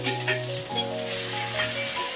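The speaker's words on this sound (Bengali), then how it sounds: "এবার যেগুলো চপ করেছিলাম সেটাকে আমি তেলের মধ্যে দিয়ে দিলাম।" Chopped onion and red and green peppers sizzling in hot oil for chili chicken, a steady close frying hiss with a faint stirring clatter and some background tones, no talking.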